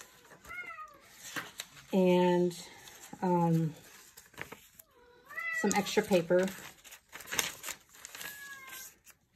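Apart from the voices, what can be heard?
cat meowing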